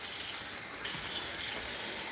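Water poured into a frying pan of salsa for migas, a steady broadband hiss and splash lasting the whole moment, close and fairly loud with no talking.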